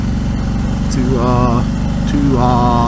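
A motorcycle engine drones steadily and loudly throughout, with a low rumbling tone as the bike rides along while someone talks over it.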